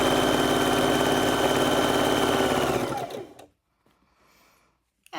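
A sewing machine chain-stitches log cabin quilt blocks in one continuous fast, loud whir, then slows and stops, followed by near silence and a faint click.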